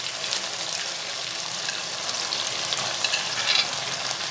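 Chicken white karahi sizzles loudly and evenly in a wok as homemade yogurt is stirred in, with a constant close hiss and faint wet mixing sounds and no talking.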